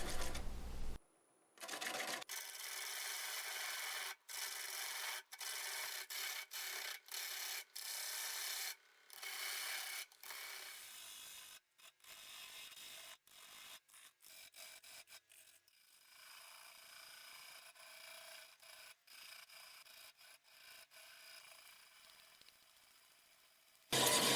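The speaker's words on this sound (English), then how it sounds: "I'm going to speed up some of this tenon removal, but I'll slow it down at the end" A tenon is cut away from the base of an English walnut root-ball bowl turning on a lathe: bursts of hissing, rasping tool-on-wood scraping broken by frequent abrupt cuts and short pauses, close and fairly loud throughout.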